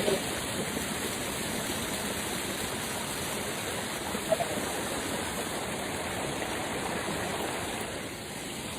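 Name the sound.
waterfall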